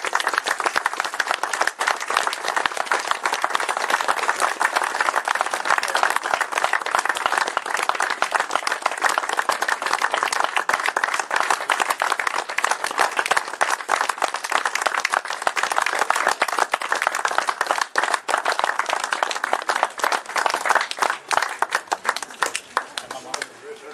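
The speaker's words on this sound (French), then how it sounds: "et on les applaudit bien fort." Sustained applause from a crowd at a tribute to deceased sportsmen at the Route des Toys event, dense steady clapping holding at a loud, even level for the full stretch with a faint voice underneath.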